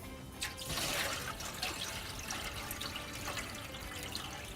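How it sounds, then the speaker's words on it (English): Water poured into the water pan of a smoker while preparing a hickory smoked turkey, a steady continuous splashing rush lasting several seconds, close and fairly loud. "Fill up the water pan."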